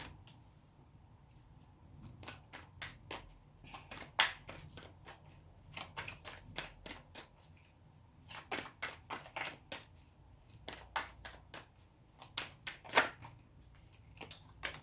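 Tarot cards being shuffled and drawn in a quiet room, a long run of crisp flicking riffles and soft slaps in uneven bursts, close and fairly quiet, with no talking.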